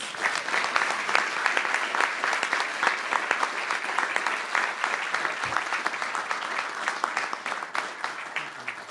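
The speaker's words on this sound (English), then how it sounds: "let's give the new class a big round of applause" A room full of people at a mayor's appointments announcement gives a sustained, loud round of applause, dense clapping holding steady throughout.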